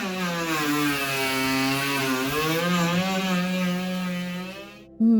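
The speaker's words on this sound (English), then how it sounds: "we've been investigating and restoring wood using hand tools and electric machines. It's quite a noisy process," Electric woodworking machines shaping old timber aboard the historic ship RRS Discovery during restoration, a loud steady motorized whine with shifting harmonic pitch for about five seconds, cutting out abruptly near the end before restarting.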